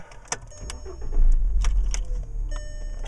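A 2006 Volkswagen Jetta 2.5 starting up: a few clicks and key jingles, then the engine cranks and catches about a second in and settles into a steady close idle, with no talking.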